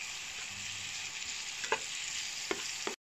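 Onions and green chillies fry for biryani with a constant soft sizzle and a few sharp spatula scrapes against the pan. The sound cuts off abruptly at the end, with no talking.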